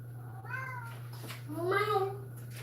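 A cat meows twice at close range, the second call longer and louder, over a steady low electrical hum.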